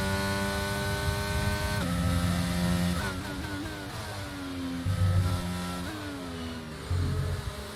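Race car engines in the F1 22 video game whine and rev, pitch climbing through gears and dropping on upshifts in repeated sweeps, moderately loud with no talking.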